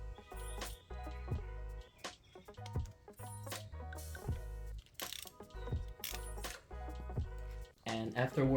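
A ratchet wrench removes bolts from a Nissan SR20DET engine block in a 240SX engine bay. Close, clicky ratcheting and metallic mechanism noise run throughout, with a voice talking now and then.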